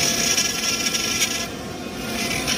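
A Ryobi brushless rotary tool spinning a saber-tooth carbide burr at 25,000 RPM carves into wood, giving a steady, close grinding and rasping whine that holds through the whole stretch, with no talking.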